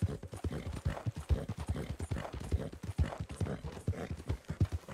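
Steady clip-clop of a big horse's hooves in Red Dead Online, an even trotting rhythm of dull thuds, close and moderately loud with faint background ambience.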